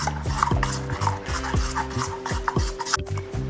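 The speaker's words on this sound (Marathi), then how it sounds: "आणि छान आपल्याला एका डायरेक्शनमध्ये छान मिक्स करून घ्यायचं आहे" Appe batter being mixed steadily in one direction with a spoon in a bowl, giving a repeated rubbing, scraping rhythm of about a stroke every third of a second, close and clear with no talking.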